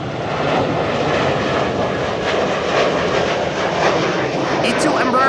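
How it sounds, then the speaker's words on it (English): An Embraer E2 jet airliner takes off from Schiphol's Kaagbaan runway 24 under a low cloud ceiling, a steady, loud broadband engine roar lasting throughout with a voice talking over it. "E2 Embraer just now took off."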